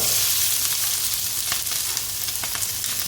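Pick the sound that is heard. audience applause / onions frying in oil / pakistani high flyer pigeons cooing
onions frying in oil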